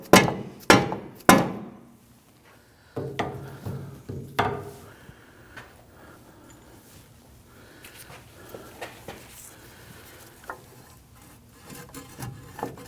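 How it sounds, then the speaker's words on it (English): Mallet blows drive a steering knuckle into the strut during a front CV axle replacement on a 2010–2019 Ford Taurus: three sharp, close knocks in quick succession, a second cluster of heavier strikes, then quieter scraping and tapping of metal parts. "use our mallet, bonk our knuckle into the strut itself"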